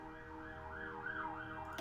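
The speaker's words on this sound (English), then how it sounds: "Sorry about the siren, by the way." Wailing emergency siren rising and falling in pitch, moderately loud and close, running through the whole short stretch over a low engine-like hum, with no talking.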